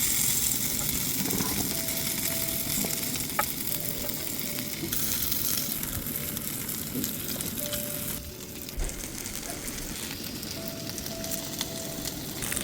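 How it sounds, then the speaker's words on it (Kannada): Brussels sprouts sizzle steadily in a hot pan, a continuous dense crackle of frying with occasional faint clinks, with no talking over it. "ಇದನ್ನ ಟರ್ನ್ ಮಾಡಿ ಇನ್ನೊಂದು ಸೈಡ್ ಕೂಡ ನಾವು ಫ್ರೈ ಮಾಡ್ಕೊಳ್ಳೋಣ."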